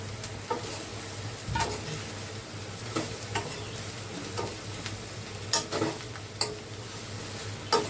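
Soybeans frying with spices in a pan, a continuous moderate sizzle broken by occasional sharp scrapes and taps of a spoon stirring.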